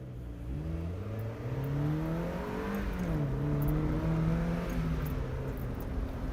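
A 1999 Mazda Miata with a six-speed manual gearbox driving and accelerating, its engine note rising through the revs, easing off, then climbing again, heard from inside the car without talk.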